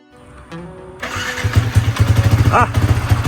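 A motorcycle engine fitted with a new superhead is started with a short cranking whine, then catches and idles in loud, rapid, uneven pulses close by, with someone speaking over it.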